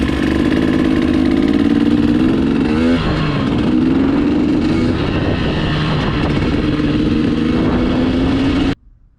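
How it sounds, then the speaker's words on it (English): A KTM or Husqvarna fuel-injected two-stroke dirt bike engine running loud and close, its note wavering and breaking up unevenly at idle and light revs for about nine seconds before cutting off abruptly. "if your KTM or Husky fuel injected two-stroke is running like this"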